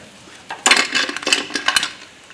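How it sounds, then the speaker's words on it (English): A metal plate is unhooked from a seized 2-litre Ford Mondeo diesel engine, producing a cluster of close metallic clanks and scrapes over about a second and a half, with sharp rattling impacts before the sound settles. "So I'm just going to remove this plate now."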